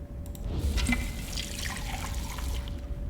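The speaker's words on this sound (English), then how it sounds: "Water. Looks clean." Water ambience in the video game Wasteland 2, a steady trickling and dripping flow with a faint tonal hum underneath and no talking.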